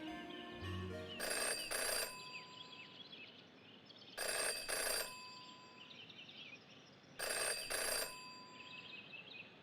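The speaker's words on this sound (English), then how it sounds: "Jenny had learned never to ignore a ringing phone." A telephone rings in the video game Jenny LeClue, three loud, evenly spaced double-burst rings over a quiet ambient backdrop.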